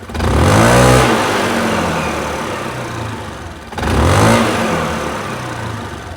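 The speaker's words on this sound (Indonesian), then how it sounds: "Coba aja kita nyalain motornya langsung" A motorcycle engine revs twice, each throttle blip surging loudly then settling back to a rumbling idle, recorded up close with no speech.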